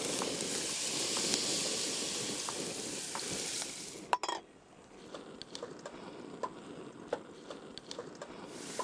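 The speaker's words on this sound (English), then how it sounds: "Bit of oil going in to a saucepan. I'll just start to brown the beef off." Beef browns in hot oil in a saucepan, a steady close sizzle and hiss broken by a sharp stir partway through, after which a quieter frying crackle with scattered pops continues.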